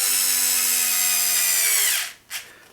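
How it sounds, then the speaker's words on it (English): A power drill whirs steadily at close range for about two seconds while snugging up parts on a Senton 3S RC car chassis, then winds down and stops with a brief final burst. "Power tools are nice."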